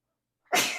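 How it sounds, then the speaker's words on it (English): A single sudden sneeze bursts in after a stretch of silence, loud and close, with a sharp onset and a breathy tail that fades slowly. "Excuse me with the sneezing."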